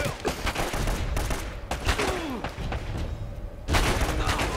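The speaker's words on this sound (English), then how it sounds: "Fat man took 2 shots from a magnum" Magnum and other gunfire crack in rapid irregular bursts during a firefight in Uncharted: Drake's Fortune, loud and close, mixed with thuds and game noise under occasional voices.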